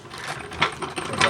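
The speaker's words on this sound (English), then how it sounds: "I'll use the pneumatic wrench to take it all the way off." A pneumatic wrench spins a nut off a rear shock on a 1987-1993 Ford Mustang GT, giving short, close, rattling bursts with a mechanical buzz and no talking.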